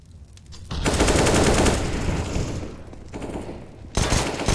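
AK rifle fire in Counter-Strike on the Mirage map during a professional esports match, heard as dense, loud bursts of rapid automatic shots, one long volley, then a quieter stretch and a fresh burst near the end.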